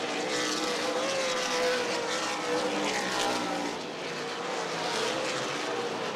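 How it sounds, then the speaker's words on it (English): Stock race cars circle the Anderson Speedway oval during an ARCA/CRA Super Series race, a continuous loud roar of engines drifting in pitch as the field passes, heard from a distance without talk. "So Jones taking a very low ride around the corners"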